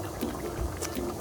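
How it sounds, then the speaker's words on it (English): Pilau biryani bubbling in a Ninja Foodi multicooker, a steady close simmer of gentle popping and burbling with no voices over it. "You can see it bubbling away here"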